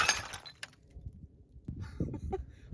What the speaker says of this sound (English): Next up, 45 ACP out of a 1911 full-sized.